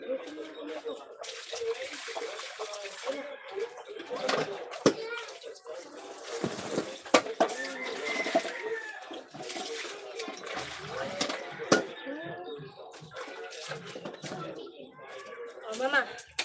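Water poured from a tabo dipper over a person splashes and pours in uneven gushes, close and fairly loud, while voices, including a child's, talk over the sound.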